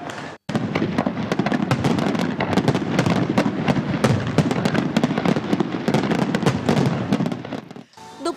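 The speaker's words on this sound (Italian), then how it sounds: "mezz'ora di fuochi d'artificio che hanno illuminato a giorno il cielo della Riviera del Corallo" Dense, continuous crackling and booming of New Year's midnight fireworks over the harbor along the Riviera del Corallo, loud and sustained with overlapping bursts, fading out at the end.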